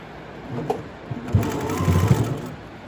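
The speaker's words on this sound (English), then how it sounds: "I'm just going to stitch around the entire piece" A sewing machine stitches around the edge of a fabric face mask in one short, close burst of rapid mechanical whirring.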